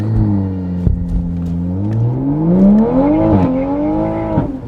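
A Toyota Supra A90 launching hard with launch control: a loud engine holds at high revs, then climbs steeply through rising pitch before a brief dip and another surge, close to the microphone.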